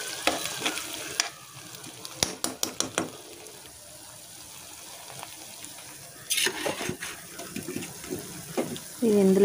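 Ingredients for a goat brain curry fry in a pan. Bursts of crackling sizzle and stirring clatter come close up, separated by quieter stretches, and grow louder again toward the end.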